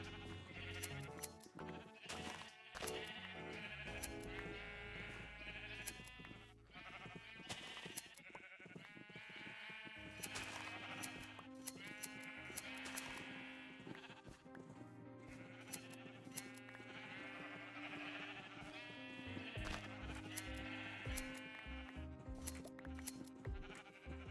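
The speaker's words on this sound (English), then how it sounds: "And I have this whole flock of sheep" Minecraft sheep from a whole flock bleat again and again, the calls mixed into continuous game music and carrying on throughout without any voices.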